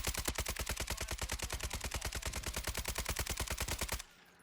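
Rapid automatic weapon fire in a video game, a fast steady stream of about forty shots in four seconds, loud and close, then cutting off abruptly into quiet room tone.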